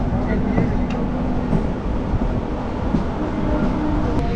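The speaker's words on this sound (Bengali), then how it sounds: "তো এটা হচ্ছে এই চক্র রেল" A Kolkata circular railway train runs with a loud, continuous rumble and rattle, heard steadily from close by with a faint tonal hum throughout.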